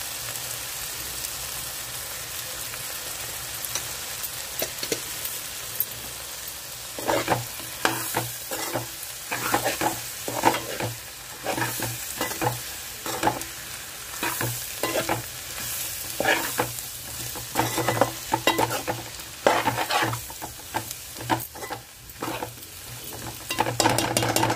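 Eggs and spices frying with chili powder in a pan, a continuous sizzle under repeated stirring strokes that grow louder and busier toward the end, no talking.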